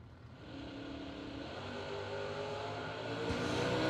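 Drag racing cars, a Camaro among them, launching at the 19th Annual Ultimate 64 event, with a sustained engine roar that builds steadily in loudness from a distance, with no talk over it.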